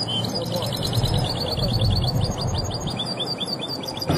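A goldfinch sings rapid, high twittering phrases continuously at a songbird singing competition in Oujda, Morocco, while a murmur of voices and crowd noise runs underneath.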